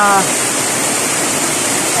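Dense, steady roar of heavy rain pouring down, constant and loud throughout with no pauses.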